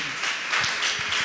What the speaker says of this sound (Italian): Facciamo un applauso al nostro Signore